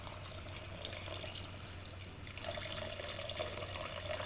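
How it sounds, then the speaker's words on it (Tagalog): Water pours into a pot of simmering kare-kare sauce with peanut paste, a steady splashing trickle that swells around the midpoint and continues fairly close and alone. "Maglalagay ako ng konting tubig pa."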